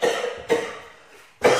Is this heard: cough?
yes